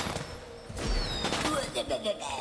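Fireworks crackle and pop in the video game War for the Overworld, a cluster of bursts and whistling rises over a busy game soundscape, with a voice talking at times.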